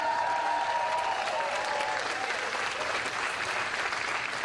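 A seminar audience applauds continuously, dense crowd clapping that fills the room at a steady level, with a faint tonal sound ringing under it early on.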